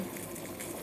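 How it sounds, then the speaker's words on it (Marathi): Water comes to a boil in a pan while rava sheera is being made, a soft, continuous bubbling hiss that is faint and brief. "पाण्याला उकळी आलेली आहे"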